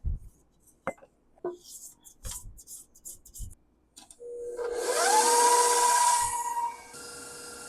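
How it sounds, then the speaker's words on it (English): An electric mixer starts up partway through and whirs steadily at high speed through icing sugar and egg, after several scattered knocks and clatters of bowl and utensils, close and fairly loud once running. "I'm just going to get some of this icing sugar in there and mix up."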